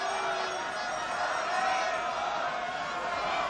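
A home crowd at an outdoor Jeux Sans Frontieres team game in Ludwigsburg, Germany cheers and roars continuously, a broad, steady din of many voices from a distance.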